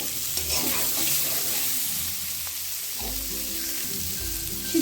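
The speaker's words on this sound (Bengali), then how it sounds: "সিদ্ধ করা আলুগুলো একটু ভেজে নেব" Boiled potatoes fry gently in oil in a wok with a soft sizzle. Scraping stir strokes and low knocks of a spatula against the pan repeat through the clip at a moderate level.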